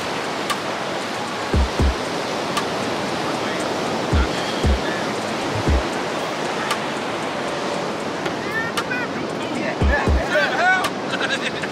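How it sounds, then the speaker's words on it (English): Ocean waves at Coco Beach rolling in as a steady broad wash of surf, with wind buffeting the microphone in low thumps and people talking now and then. "the beach is beautiful"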